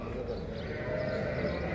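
Lambs bleating amid a busy small-livestock market in Çorum, Turkey, with constant crowd chatter and background bustle throughout.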